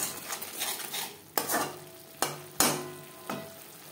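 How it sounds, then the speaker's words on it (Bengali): A spoon stirs salt, turmeric and spices in a pan for Bhola fish curry, with soft scraping and a low sizzle, then several sharp metallic clinks against the pan, close and clear. "লবণ হলুদ মশলার সাথে বেশ ভালো করে মিক্সড করে দেবো।"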